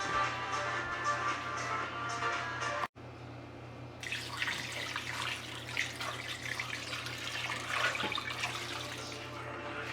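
Tap water running over boiled short ribs in a kitchen sink, a loud continuous gushing rinse after a brief break, with splashing and hissing spray close by, no voices.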